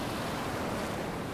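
Ocean waves wash in a steady, soft hiss of surf, continuous and fairly faint, with no voices.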